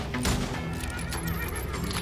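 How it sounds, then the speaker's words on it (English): A horse whinnies in the Western shooter game Call of Juarez Gunslinger, a short neigh over a busy, loud game mix with hoof and gunfire-like clatter. "Oh, bulletproof horses!"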